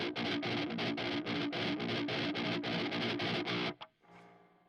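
Heavily distorted electric guitar chugs in a galloping rhythm of short palm-muted bursts, loud and close, then pauses abruptly with a brief ringing tail.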